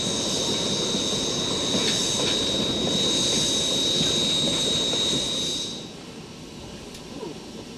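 A Heisler geared steam locomotive rolls past during a three-train race, giving a loud continuous rumble of wheels and machinery with a high metallic squeal, fading sharply near the end to a quieter distant hum.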